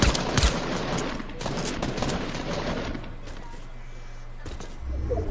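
Bursts of gunfire in a Fortnite match, rapid clustered shots in quick volleys at moderate loudness, layered over continuous game noise with talk mixed in.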